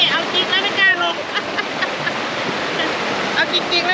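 Steady broadband rush of a waterfall on a Chiang Mai outing, loud and continuous across the whole stretch, with faint voices now and then underneath.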